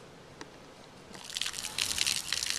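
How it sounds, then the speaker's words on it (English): Water from a hose pours into a bucket holding a drop or two of dish soap, ready for washing a car. After a quiet start, a loud, splashing gush begins and builds steadily. "get a water hose and fill up the bucket about halfway with water"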